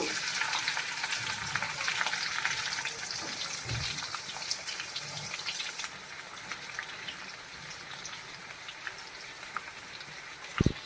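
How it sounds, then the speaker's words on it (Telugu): Onions hit hot oil and fry with a loud, dense hiss that drops to a quieter sizzle about halfway through, with faint stirring taps near the end and no speech. "చూడండి, ఉల్లిపాయలు వేసేస్తున్నాను."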